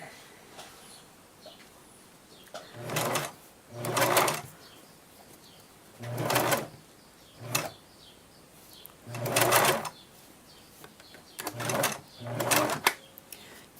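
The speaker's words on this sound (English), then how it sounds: "you're just going to reverse stitch to keep your stitches in place, and you're just going to sew down" Sewing machine straight-stitching fabric for sailor senshi gloves, running in six short bursts of steady whirring with pauses between, close and fairly loud.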